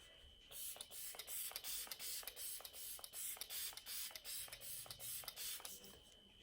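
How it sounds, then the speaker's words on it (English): Rapid, evenly spaced short hissing bursts of Morphe Luminous setting spray repeat steadily for several seconds, pumped over and over. "I'm going to take the Morphe Luminous setting spray."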